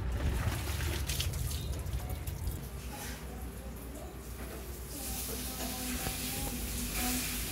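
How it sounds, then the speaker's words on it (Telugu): Spices tempering for rasam crackle and sizzle in a pan, a steady, moderately loud frying hiss with small pops that grows brighter toward the end. "రసం అయితే తాలింపు పెడుతున్నాను."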